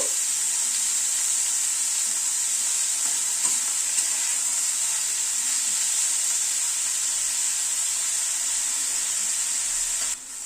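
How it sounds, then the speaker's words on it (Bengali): Chopped onion frying in a pan for aubergine bharta, a steady bright sizzle that holds evenly for about ten seconds, with faint stirring ticks and no voices. "পেঁয়াজটাকে মিনিট 2 মতো একটু ভেজে নিলাম"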